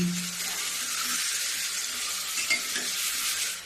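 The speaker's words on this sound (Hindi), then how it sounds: "मैं ये जो भून रही हूँ वो धीमी गैस में ही भून रही हूँ" Steady low-flame sizzle of dalia roasting with peas, carrot and cauliflower in a pan, a continuous bright hiss with faint stirring scrapes, close and even throughout.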